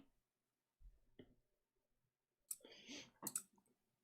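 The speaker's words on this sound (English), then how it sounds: "We can hear clicking." Sharp clicks on a call participant's open line, a couple of faint taps early on, then a louder burst of rapid clicking and rustle near the end, with no speech.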